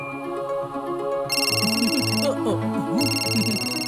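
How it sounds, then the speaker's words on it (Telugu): A phone rings with an incoming call in a Telugu children's cartoon, a bright repeating electronic ringtone in two bursts over background music and voices. "తోతారాం కాల్ చేస్తున్నాడు."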